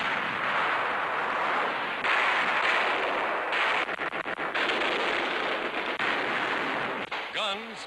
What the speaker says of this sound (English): Guns, camouflaged in nearby fields, score a hit.